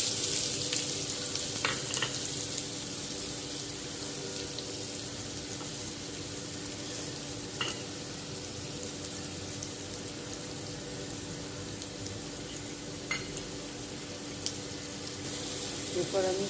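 Chopped onion frying in hot oil for a homemade palak chicken, a steady broadband sizzle that holds evenly throughout with a few faint clinks and watery splashes, close and moderately loud.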